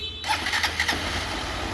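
A Honda CG Start motorcycle with a noisy engine is started, a short burst of starter whir catching into a close, rough running engine sound lasting under two seconds.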